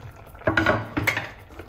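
A spoon scrapes and knocks twice against a pot while homemade fresh tomato sauce with chopped herbs is stirred, two short close clatters in a quiet kitchen.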